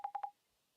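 Three quick, evenly spaced telephone dialing beeps in a video game, clear and close, followed by silence.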